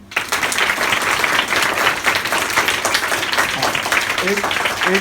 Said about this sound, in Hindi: सर के लिए ताली बजाओ